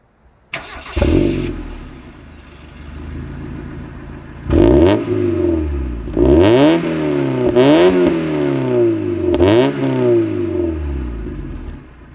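An engine starts up, then the Mazda MX-5 convertible's exhaust blares through several sharp revs that rise and fall back to a rumbling idle.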